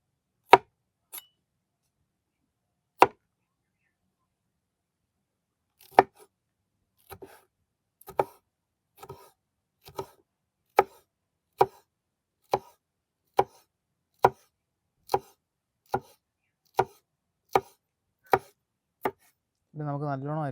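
A knife chops green chillies on a board in sharp, close single strokes, sparse at first and then settling into a quick even rhythm, with a brief burst of another noise at the very end.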